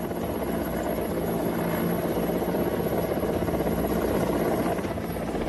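An Air Force Mi-17 helicopter arrives for a morning rescue over floodwater, its loud, steady rotor and engine roar filling the whole stretch without a break.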